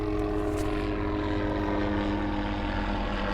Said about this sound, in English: Sorry for the helicopter coming over.